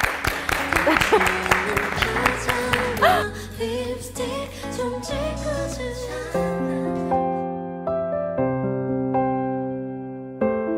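An audience at a live show claps for a few seconds in sharp, scattered bursts. The applause fades as a song with sustained instrumental notes starts and carries through the rest.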